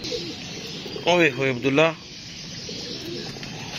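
A captured pigeon gives a short, throaty cooing phrase of about a second, close up, with someone speaking around it.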